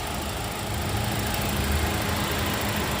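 A 2017 Toyota Avanza Veloz with a 1.5 engine and manual gearbox, in like-new condition, idles close by with a smooth, even hum and no voices over it.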